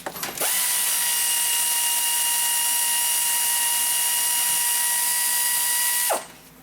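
Power tool running steadily for about six seconds while removing a vehicle's starter bolts ahead of pulling the transmission, with a sustained high whine that starts and stops abruptly, close and loud, no talk.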